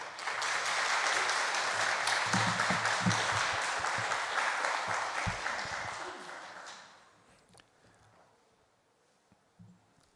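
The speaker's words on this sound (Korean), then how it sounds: "목사님을 환영하며 박수하도록 하겠습니다." A church congregation applauds steadily for several seconds to welcome the pastor during a Sunday service, then the clapping fades away into quiet with a few scattered sounds.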